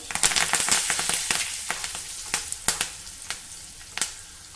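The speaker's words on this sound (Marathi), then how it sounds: "गॅस बंद करूया चिमूटभर हिंग कढीपत्त्याची पानं" Green chili, curry leaves and asafoetida crackle and sizzle in hot oil for tempering, a dense hiss punctuated by sharp pops that thin out and become sparser toward the end.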